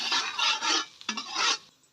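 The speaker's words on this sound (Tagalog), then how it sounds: "Nanapudot ti mantika, ikabel jay bawang." Garlic dropped into hot cooking oil for a sardine and papaya sauté sizzles loudly and close in broad bursts with a brief clatter midway, then fades near the end.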